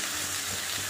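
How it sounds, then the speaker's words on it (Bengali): Something fries over a high flame, with a brief, steady, close hiss and crackle of hot oil in a pan, and no voices. "তো হাই ফ্লেমে ভাজছি আমি"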